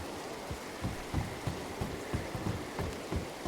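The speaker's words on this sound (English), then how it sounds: "It is a little hard to hear over the rain" Rain in WildRP, a Red Dead Redemption roleplay game: a steady, quiet hiss of rainfall with faint soft thuds recurring at a regular pace, with no voices.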